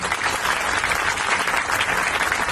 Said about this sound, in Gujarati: એમના માટે આપણે સૌ લોકો તાળીઓ વગાડશું